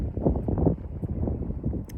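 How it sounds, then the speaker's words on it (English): Strong wind buffeting a microphone outdoors, producing a continuous low rumbling roar with gusty surges and no other clear sounds. "this is so windy, I hope I have some sound quality"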